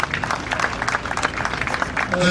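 A crowd at a ceremonial gathering applauds a chief with continuous, moderately loud clapping that builds slightly toward the end, with voices faintly mixed in.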